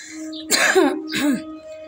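A person coughs and clears the throat, two close harsh bursts over a steady low background hum, with no talk.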